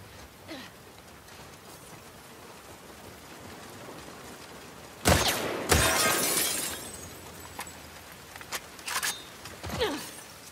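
Glass smashes loudly in The Last of Us Part 2, a sharp burst followed by a tinkling cascade of falling shards, with a few smaller breaking cracks afterward over a quiet rainy background.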